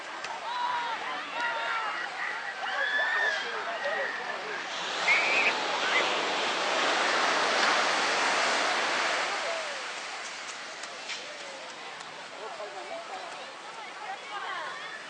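Ocean surf washes onto Santa Cruz beach in a steady broad roar that swells in the middle, with wind buffeting and children's and adults' voices faintly in the background.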